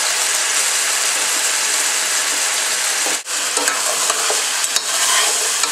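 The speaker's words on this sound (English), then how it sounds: "now we're going to go ahead and add the vegetables" Vegetables, including onions, dropped into a hot pot and stirred, making a loud, continuous close sizzle with scraping and a brief dip partway through, with no talking.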